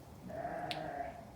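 A pet lamb on a sheep farm bleats back in one sustained, fairly clear call at moderate distance, with quiet outdoor background around it.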